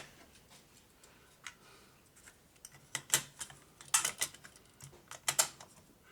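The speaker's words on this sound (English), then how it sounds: "Let's just put the tape in it" A cassette tape is handled and pushed into a Bush radio cassette player, giving a series of small plastic clicks and clacks that grow louder and denser toward the end, close by in a quiet room.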